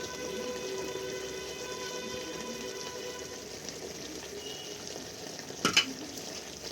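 Chicken with spices sautéing in a pan for dahi chicken, a steady soft sizzle and fry hiss throughout with a brief louder stir or clatter near the end.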